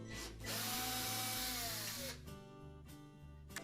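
A power screwdriver removes the screws holding the flume on a GE washer during a water inlet repair, with sustained whirring bursts that stop and restart, close by and fairly quiet.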